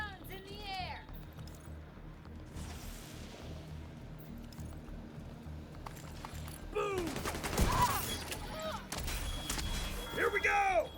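Gunfire in a video game, bursts of shots scattered through the clip and thickening into a denser volley near the end, mixed with game sounds and a person talking over it.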